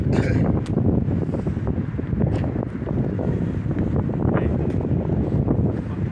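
Strong outdoor gusts buffet the microphone in a continuous low roar, rising and falling in heavy rumbling waves that drown out everything else.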